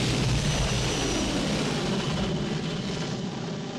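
Steady, loud aircraft engine drone inside an airplane, a continuous broadband roar with low rumble holding level throughout, no talk over it.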